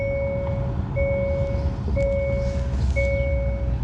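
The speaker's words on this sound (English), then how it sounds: "there's big old trash trucks fucking flying around all these little tiny streets" A garbage truck's reversing alarm beeps in a slow, regular series of four long tones over a rumbling engine and street noise on a narrow street.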